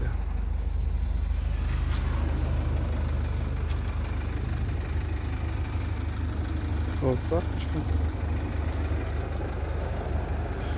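A 2012 Renault Koleos with a 2.0 diesel engine and automatic gearbox idles steadily with a low, even rumble, heard close in the engine bay while someone speaks briefly over it.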